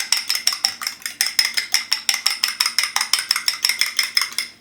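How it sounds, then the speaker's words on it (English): An egg beaten with a fork in a small bowl: fast, steady metallic clinking strokes against the bowl, roughly four or five per second, bright and close, with no talking. "I'm going to get the egg into a small bowl using a fork or a whisk. Just going to"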